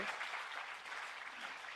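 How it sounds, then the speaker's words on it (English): An audience applauds the panelists at a biodiversity measurement conference, a steady wash of many hands clapping together, fairly faint and distant, with no talk over it. "a big round of applause for all of the panelists here"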